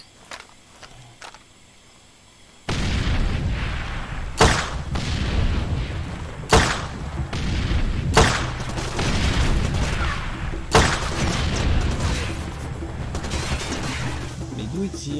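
In Far Cry 2, enemy gunfire breaks out after a quiet opening: sharp shots and loud bangs crack at irregular intervals over a dense wash of combat noise, and a voice is heard beneath it.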